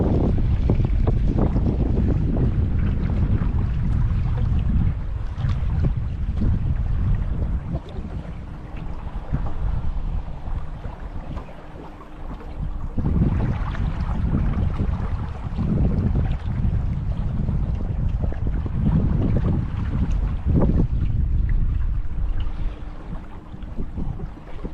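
Strong wind roaring across a microphone during a boat ride on the water near Hoover Dam, with whitecaps around, a steady loud buffeting rush with gusty surges and no talking.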